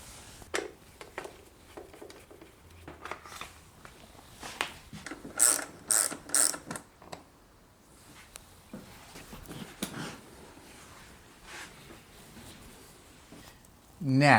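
A 12mm socket ratchet working on the seat bolts of a Suzuki DR650 motorcycle, with bursts of quick clicking pawl ratcheting between pauses and light handling noises, and someone talking at times.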